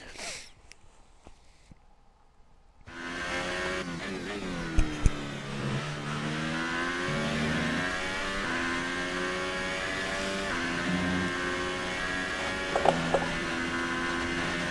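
Formula 1 car in F1 2018 on a fast lap at the Belgian circuit, its engine bursting into a loud, high screaming rev after a quiet start, climbing and dropping through gear shifts with brief pops, close and continuous.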